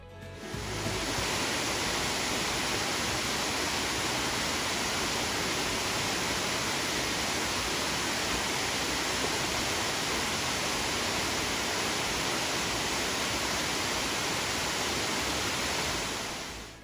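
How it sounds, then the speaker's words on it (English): Soco Falls on the Blue Ridge Parkway in North Carolina, where two rivers meet: a loud, steady roar of rushing water that fills the whole stretch without a break, with no voices. "these two rivers come together to form this beautiful waterfall"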